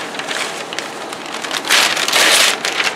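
Packing paper crinkles and rustles as it is crumpled and stuffed into a shipping box, a close, crackly burst of handling noise that grows louder near the end.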